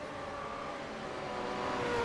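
V8 Supercars race around the Adelaide street circuit in the iRacing simulator, a loud engine note climbing steadily in pitch as a car accelerates, with no talking.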